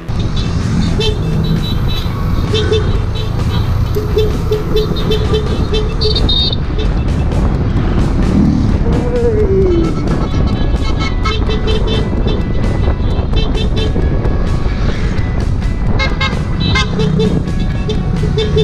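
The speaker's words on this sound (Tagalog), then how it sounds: "At habang tinutuntun namin ang kalsada ay may nakasalubong kaming grupo ng mga nakamotor." A group of motorcycles passes on a mountain road, engines droning loudly and continuously with a horn toot, amid steady traffic noise and faint voices.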